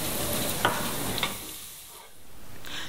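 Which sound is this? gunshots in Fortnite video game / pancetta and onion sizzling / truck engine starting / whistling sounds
pancetta and onion sizzling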